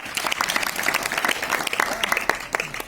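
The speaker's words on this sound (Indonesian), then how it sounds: "Tepuk tangan untuk Chris" Brisk audience applause for Chris, many hands clapping in a dense, lively patter that carries on without a break through the whole moment.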